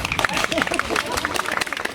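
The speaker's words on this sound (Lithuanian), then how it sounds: "Aplodismentai." An audience claps at a children's stage-skills camp final concert: brisk, dense, steady applause throughout, with some crowd murmur mixed in.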